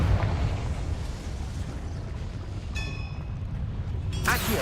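A blasting-spell explosion from a Harry Potter–style video game, a sustained roaring rumble with a sharp burst and crackle near the end, fairly loud and close.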